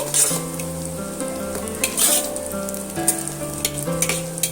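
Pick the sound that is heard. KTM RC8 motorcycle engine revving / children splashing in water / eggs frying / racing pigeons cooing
eggs frying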